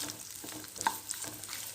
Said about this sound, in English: we want to fry this in oil. I've added 1 tablespoon of oil.